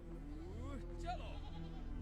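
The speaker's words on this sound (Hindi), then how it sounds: "भेड़, रुक जा, भेड़" Sheep bleat nearby, with wavering calls rising and falling over a steady low rumble of background noise.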